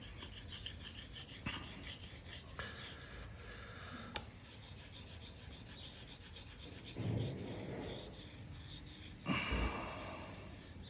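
A straight razor stroked across a Japanese honing stone while setting the bevel, with quiet, continuous gritty rasping and occasional louder scraping swells, close and faint throughout.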